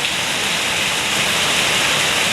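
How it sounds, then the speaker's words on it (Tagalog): Heavy rain pours down steadily, a dense, even hiss with no letup and no voices. "Ngayon, simula na naman ang ulan-ulan yun."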